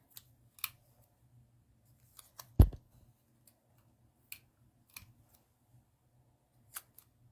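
Scissors snipping fern stems while making a card, quiet scattered clicks with one sharper, louder snip near the middle, over a faint low hum in an otherwise still room.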